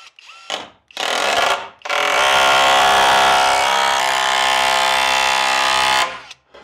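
A Skil brushless impact driver hammering screws during cabin loft and siding prep, a couple of short bursts followed by a long, loud, continuous rattling run of about four seconds, close by with no talking.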